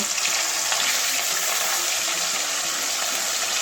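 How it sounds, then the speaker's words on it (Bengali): Pieces of katla fish frying in hot oil, a steady dense sizzle with bubbling crackle that holds evenly throughout, close and fairly loud, with no talking. "এবারে বাকি মাছগুলো ওইভাবেই ভাজা করে নেব।"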